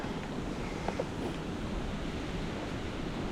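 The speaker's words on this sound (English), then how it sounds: "God, that wind is strong." Strong wind by the water on a fishing trip, a constant heavy rumbling roar of gusts buffeting the microphone, with surf-like noise and no pauses.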